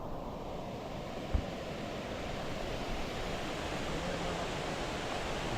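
Beema Falls in the Jawadhu Hills pours water with a steady, dense rushing roar that fills the whole scene. One brief soft bump is heard early on.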